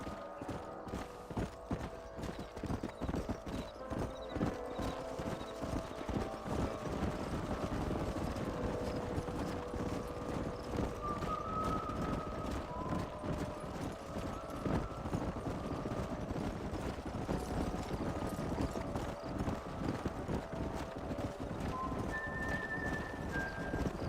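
Horses gallop in the video game Red Dead Redemption, with dense, rapid hoofbeats drumming steadily and loudly for the whole stretch amid faint tonal game sounds and no speech.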